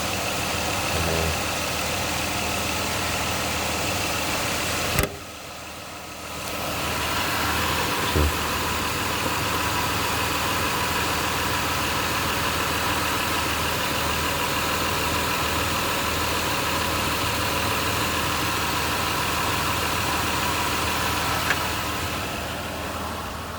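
A 2007 Ford Escape XLT engine idles steadily and evenly close by after an antifreeze change. A brief dip near the start breaks the idle before the smooth hum resumes, and no one speaks.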